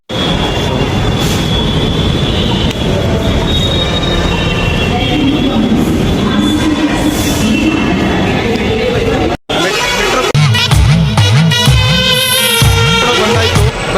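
Bangalore metro train running loud and close: a dense rumble with wheel squeal, then a clattering stretch with warbling tonal whines, with voices mixed in.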